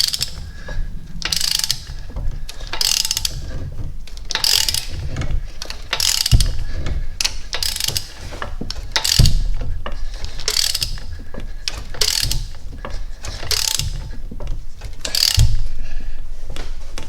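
Ratchet wrench clicking repeatedly while tightening the harmonic balancer bolt on a C5 Corvette engine, steady rhythmic pawl clicks in strokes with metallic ring, close and fairly loud, no talk.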